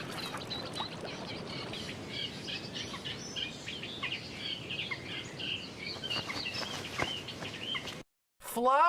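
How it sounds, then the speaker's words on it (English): Repeated chirpy bird calls ring out over a constant hiss and rustle of outdoor ambience, a rapid series of bright twittering notes that continues for several seconds before a brief dropout. "I've never heard that bird call before."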